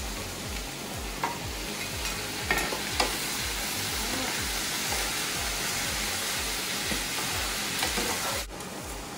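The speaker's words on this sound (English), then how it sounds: "Lastly, we'll add our noodles and then mix everything together." Noodles tossed with sauce in a hot pan give off a dense, continuous sizzle and hiss, with a few clinks and scrapes of stirring.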